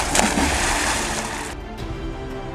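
Animated robots playing in water, heard as loud, continuous splashing and sloshing that fades slightly toward the end.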